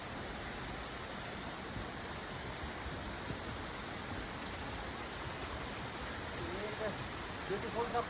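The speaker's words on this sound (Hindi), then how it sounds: "रास्ते में झरना बह रहा है" A waterfall flows beside a mountain trek path, giving a steady, dense rush of water that fills the whole clip at an even level, with a few faint sounds near the end.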